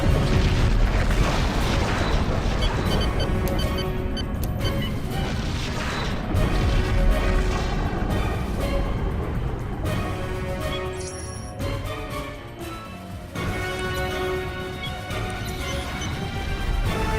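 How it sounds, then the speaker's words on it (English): Romulan vessel blowing up in the Star Trek Legacy space combat game, a loud sustained boom and crash of explosions layered over a dense, continuous game soundtrack. "Romulan vessel destroyed."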